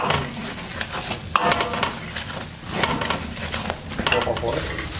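Noodles fry and are stirred in a pan, a steady sizzle broken by scraping and clanking of the utensil against the metal at close range.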